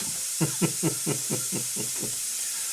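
A pressure cooker full of corned beef at a rustic off-grid log cabin puffs out steam in about seven evenly spaced hissing pulses, close and fairly loud, over a constant airy hiss.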